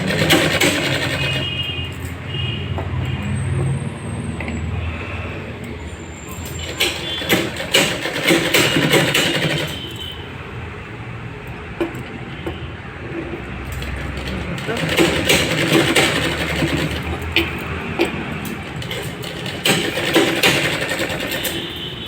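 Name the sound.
sewing machine stitching blouse lining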